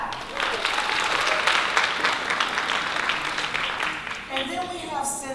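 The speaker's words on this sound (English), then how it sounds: "Please give them a clap." Sustained audience applause that holds steady and then thins toward the end, with a few voices and a brief high whistle-like sound emerging as the clapping fades.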